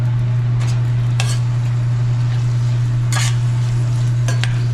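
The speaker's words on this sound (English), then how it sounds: "Put the carrot in there from early on. Okay, so we go and saute." Carrot and green onion sautéing in a pan for callaloo in a Jamaican restaurant kitchen: a steady, loud sizzle over a constant low hum, with a few sharp clinks of stirring. No one speaks.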